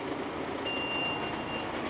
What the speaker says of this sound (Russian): Пищалка стала вот менее противная, больше на строительную технику похожа.